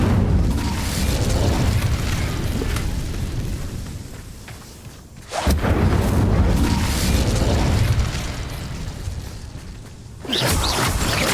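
Incendio fire spells in Hogwarts Legacy erupting as loud roaring whooshes of flame, two sustained blasts separated by a sharp crackling burst, with a third beginning at the end.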